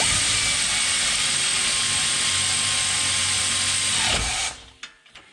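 Continuous ratchet working on wheel hub bolts of a 2016 Nissan Rogue with a loose hub, a steady close, loud mechanical clicking for about four seconds before it stops, followed by a few faint knocks.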